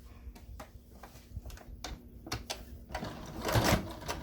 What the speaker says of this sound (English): I'm actually lining up my machine so that I'm sewing with my second guide marker